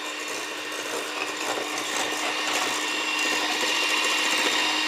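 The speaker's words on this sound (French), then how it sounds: "on n'est pas obligé de le faire au batteur comme ça électrique" An electric hand mixer whirs steadily as it beats eggs and sugar for a galette des rois, a continuous close motor buzz that grows slightly louder over about five seconds.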